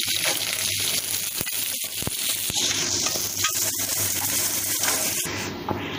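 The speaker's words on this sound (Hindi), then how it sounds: "तेल गर्म हो गया, प्याज को छोड़ देते हैं और ये प्याज को भूनते भूनते हम ब्राउन बनाएंगे" Onions frying in hot oil for chicken biryani, a steady loud sizzle and crackle running throughout with occasional scrapes and stirring knocks, close and continuous with no talking.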